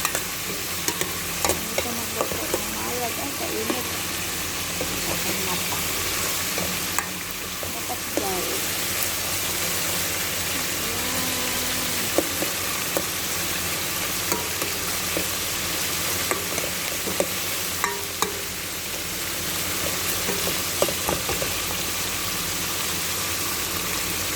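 Onion and garlic sizzling steadily in a hot pan for a home-cooked fish dish, a constant crackling hiss with occasional stirring scrapes and clinks, close and even throughout.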